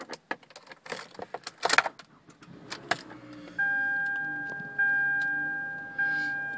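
A car with a leather interior being started with keys: jangling and clicks, then a steady electronic chime that repeats in regular pulses as the ignition comes on.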